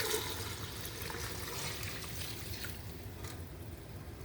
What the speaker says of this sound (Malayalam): നല്ല തിളച്ച വെള്ളമാണ്. ഞാനിത് ഇതിലേക്ക് ആഡ് ചെയ്ത് കൊടുക്കുകയാണ്.